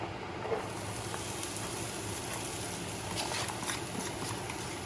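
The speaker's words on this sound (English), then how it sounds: "And the corn and the red peppers and green peppers that y'all saw me cut up, we're gonna drop right into this skillet here." Corn with red and green peppers sizzling in avocado oil in a skillet, a steady close hiss with faint crackles and pops and no voices.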